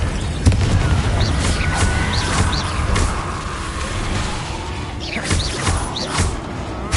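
Confringo blasting spell explosions from the video game Hogwarts Legacy, booming bursts repeated through dense game audio with bright magical swishes layered over a continuous low rumble.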